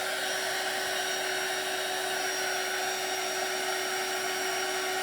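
A hair dryer blows steadily on painted fabric for a turkey craft stretched in an embroidery hoop, a continuous close, even whoosh with a faint whine and no talking.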